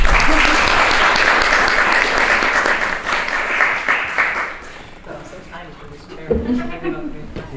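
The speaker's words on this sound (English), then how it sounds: "Can I have applause for that?" Audience applause at the Leiden Shorts 2021 event: a full round of clapping from the crowd that tapers off midway, followed by voices talking and a bit of laughter as it dies down.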